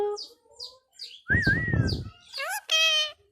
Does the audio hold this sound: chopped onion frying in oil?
no